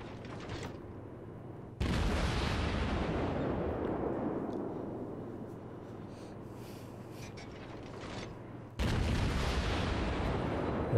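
Warship guns in World of Warships firing shells: two loud, sharp booming salvos with long rumbling decay, the second arriving about seven seconds after the first, then a third blast near the end.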